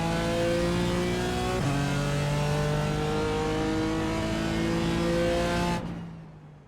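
A BMW M4 GT4 race car in the iRacing game at full throttle on a straight, the engine note climbing steadily, dropping once at an upshift, then climbing again before cutting off abruptly near the end.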